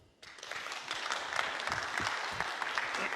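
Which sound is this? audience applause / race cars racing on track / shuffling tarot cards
audience applause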